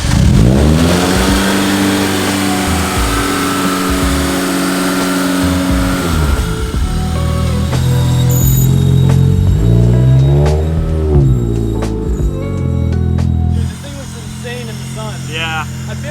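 A car engine hums and revs gently up and down as the vehicle moves slowly to bed in new brake pads and rotors, with a person talking over it close by.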